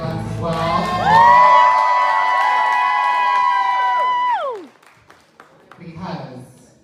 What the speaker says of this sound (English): Please give a round of applause for Rosemary's Baby and Young Lux as well.